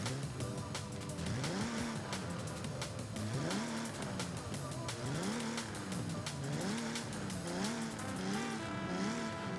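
Jaguar E-Type with a front-mounted 3.8-liter straight-six, rear-wheel drive, in Forza Horizon 5: a loud, steady engine note rising and falling through repeated rev sweeps and gear changes, with tire noise, heard alone without talk.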